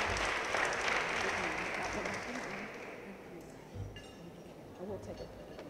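An audience applauds at a homecoming celebration for an Olympic bobsledder, with loud sustained clapping that gradually tapers off and a few clinks near the end.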